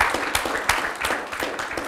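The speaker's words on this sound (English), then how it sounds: "Big round of applause for Josh." A small audience claps for chef Josh Niland at a gourmet food symposium, a brief patter of individual claps close by, uneven and fairly light.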